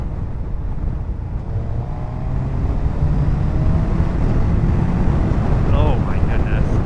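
A 2022 Suzuki Hayabusa motorcycle pulls hard in sixth gear, its engine drone rising steadily under heavy wind rush, loud and continuous throughout, with a voice present in the background.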